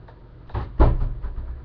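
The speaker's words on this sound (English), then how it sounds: "Close the door." An indoor door pulled shut in a room, giving a couple of short, fairly close thuds and knocks in quick succession with no talking.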